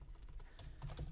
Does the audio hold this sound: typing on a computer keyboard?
yes